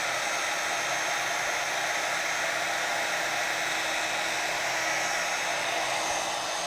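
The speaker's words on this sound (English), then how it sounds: "I will take my embossing tool, heat that up" Embossing heat tool heating up on a mixed media art journal page, a steady close blowing hiss that holds at an even level without a break.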